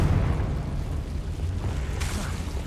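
A Confringo blast spell in Hogwarts Legacy gives a steady rumbling, booming roar, with a sharper burst near the end, all under continuous game noise.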